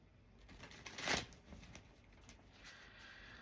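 Tarot cards being shuffled by hand: a soft riffling burst, then lighter rustles and taps, quiet and close.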